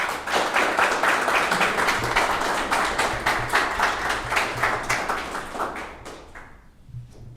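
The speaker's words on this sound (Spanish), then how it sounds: "Les pido un aplauso para recibir al escribano Bruno Acosta" Audience applause welcoming the notary Bruno Acosta to the stage at a talk on Falangist nationalism; steady dense clapping from a crowd, fairly close, tapering off near the end with a faint voice.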